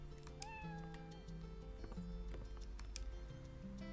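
Several cat meows from the video game Wild ARMs 3, short repeated cries over game background sounds, one pitched mew after another, clear and up front with no speech.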